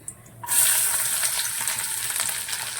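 Chopped garlic tipped into hot oil in a pan for a Tamil cashew egg gravy, a sudden loud sizzle that starts after a quiet moment and holds steady as a bright crackling hiss, with no voice.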